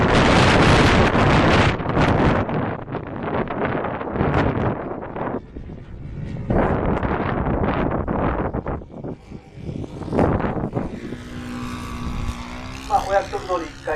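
Strong gusting wind buffets the microphone at an outdoor RC warbird and scale model flying meet, roaring loudly in waves, while voices speak and a model aircraft engine whines near the end.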